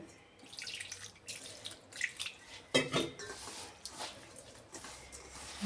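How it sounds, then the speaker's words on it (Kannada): Water runs and splashes into semolina in a kitchen, with a few brief clinks of a vessel partway through; the sounds are moderately close and no one speaks. "ಈಗ ಇದಕ್ಕೆ ಎಷ್ಟು ಬೇಕು ಅಷ್ಟು ನೀರು ಹಾಕೋತೀನಿ."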